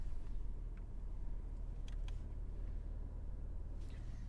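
A 2023 Porsche Macan S engine switched into sport mode hums low and steady at night, a quiet, even drone with a few faint clicks over it.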